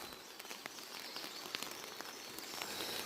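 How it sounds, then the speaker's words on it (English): Soft, steady rain falls outside at a campsite on a wet camping day, a faint hiss with scattered close drips and taps, and a bird calls faintly in the distance. "It is raining outside"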